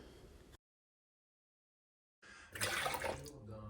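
Lukewarm milk and water poured for homemade sandwich bread dough: silence, then a close, steady liquid pour runs for about a second and a half.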